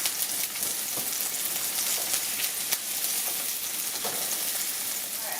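Smashed baby potatoes sizzle loudly and continuously in a hot pan as they are flipped over, a dense crackling hiss close up with a few sharper pops and no voices.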